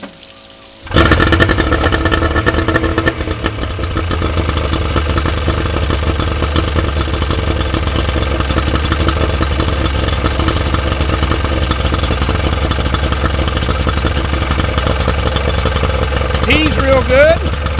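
A Yamaha 40 outboard motor with freshly cleaned carburetors, hooked up to a water supply, fires up after a short quiet moment and keeps running with a loud, steady rumble while someone talks over it.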